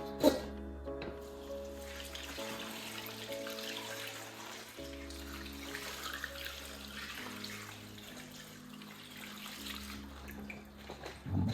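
Cold tap water runs steadily into a container to submerge cabbage for kimchi, a continuous close gushing with a low hum and faint background noises.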